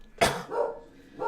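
A single sharp dog bark rings out, followed by a couple of softer, trailing yelps in the background.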